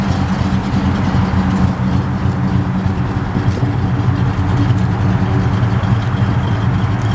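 A 1972 Buick Skylark fitted with Flowmaster exhausts idles up close, giving off a steady, deep, rumbling engine burble that stays even and loud from start to finish, with no talking.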